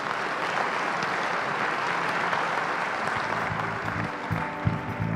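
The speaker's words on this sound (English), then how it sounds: "I want to have a big applause for the panelists," A tourism conference audience in the Philippines applauds its panelists with a steady, moderately distant wash of clapping that thins toward the end.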